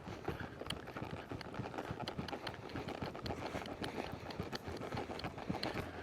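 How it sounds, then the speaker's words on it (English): A horse backs up with steady, irregular hoof clops on the ground, moderately close and continuous, with some faint rustling around the steps. "We are backing the horse up, 2 hands between the reins and the legs."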